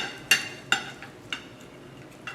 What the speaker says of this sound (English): Right now, we're just gonna take a nice cut on the steak.